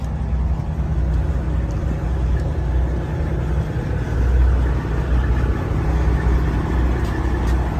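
A Cottrell 7/8 self-contained car hauler truck with its PTO engaged, giving a steady, loud low engine drone that holds evenly throughout without clear breaks.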